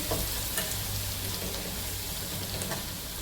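Fennel seeds and onion sauté in a pan with a steady, close sizzle and a few soft stirring scrapes, with no talking over it.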